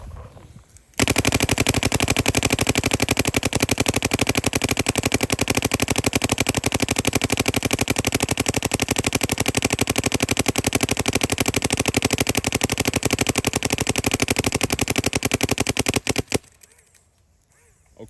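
A paintball marker fed by a Bunkerkings CTRL 2 loader full of paintballs fires in one long rapid burst of about fifteen seconds, a loud, even stream of shots at roughly a dozen per second that stops suddenly, with no talk.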